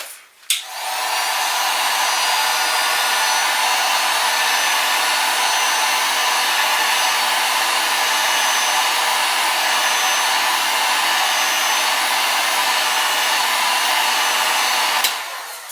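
A heat gun blows a steady, loud broadband hiss for about fifteen seconds, drying fresh orange, chartreuse and green fluorescent paint on restored fishing lures, starting and stopping abruptly with no talk.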